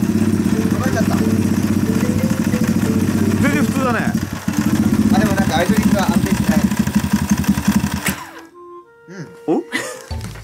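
A motorcycle engine fitted with a Chinese-made PC20-style carburetor idles with a low, steady burble, with a few thunks and some background voices, before cutting out near the end.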